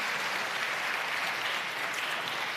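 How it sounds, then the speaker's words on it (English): A conference audience applauds the winners at a European science-for-policy event. The clapping is a thick, even roar, steady and moderately loud for the whole short stretch with no voices over it. "Round of applause for our winners."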